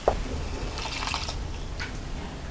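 Water poured from close range into a pan of tomato masala for paneer matar, a soft wet trickle and drip lasting a couple of seconds, with no talk over it.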